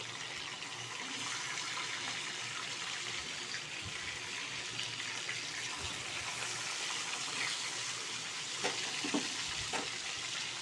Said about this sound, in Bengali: এইভাবে প্রত্যেকটা মাছ আমি ভেজে নেব